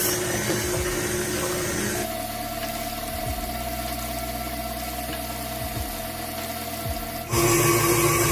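An electric mixer churns a cream cheese and whipping cream mixture for a mango pie, a steady droning whir that shifts pitch partway through and then returns louder at the end, with no talking.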